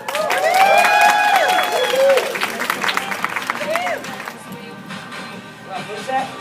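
Audience applause and cheering for a speaker named Ginger Cannon, loud and dense at first with whoops and whistles over the clapping, then thinning into scattered claps and a few voices.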